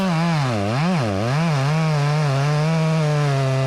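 A chainsaw runs loud and close while trimming knots off an ash log, its engine pitch dipping and rising under load a few times before settling into a steady, continuous whine.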